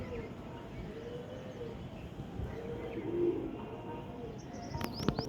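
Low, soft cooing from pigeons at close range at a pigeon-flying contest in Amritsar, mixed with faint rustling, then a few sharp chirps near the end.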